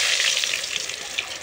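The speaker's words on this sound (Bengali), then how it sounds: "এবার এই তেলেই ভেজে নেব" Cut potato pieces sizzle in hot oil in a pan. The frying is a bright, continuous crackle, close and fairly loud, with small pops rising above it.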